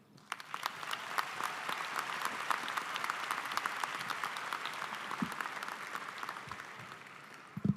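Sustained audience applause at a high school commencement ceremony, welcoming a news presenter to the podium; dense clapping from a large crowd that holds steady for several seconds, with a few louder claps near the end.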